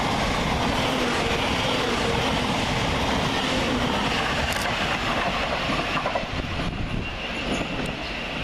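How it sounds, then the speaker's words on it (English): Class 700 unit 700-101 on a Cambridge to Brighton service passes through Preston Park station with a loud, close rumble and rhythmic rail clatter, easing slightly toward the end. "And quickly on its heels is 700-101, working 9 Sierra 23 from Cambridge to Brighton."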